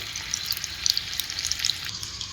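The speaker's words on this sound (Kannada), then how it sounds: "ಫಸ್ಟ್ ನಾನು ಆಯಿಲ್ ಹಾಕಿನಿ ಈಗ ಬೆಳ್ಳುಳ್ಳಿ ಹಾಕಿನಿ ಈಗ ನೆಕ್ಸ್ಟ್ ಜೀರಿಗೆ ಸಾಸಿವೆ" Garlic, cumin and mustard seeds sizzle in hot oil for a dal tadka, a steady close crackle of frying with small popping spits scattered through it, no voices.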